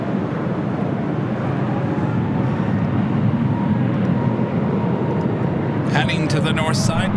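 A fixed-wing airliner roars steadily on approach to land on runway 24 right at LAX, a continuous low rumble heard at a distance, with a short burst of radio chatter near the end.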